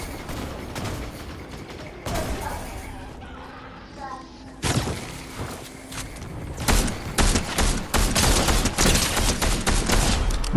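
Rapid bursts of gunfire from a Fortnite squad match, sporadic shots early, then dense overlapping volleys growing louder near the end, with brief voices underneath.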